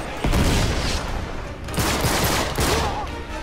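Gunfire in the video game Uncharted 3: loud bursts of rapid shots in three clusters, with crackling automatic fire and booming impacts between brief lulls.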